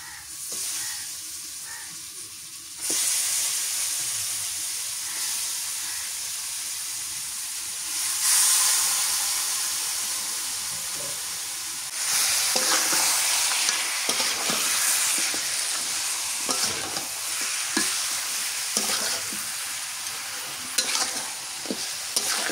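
Beef pieces sizzle and fry in a hot pan while being stirred, a steady close hiss with scraping stir strokes that grows louder and busier as more meat goes in, with no talking.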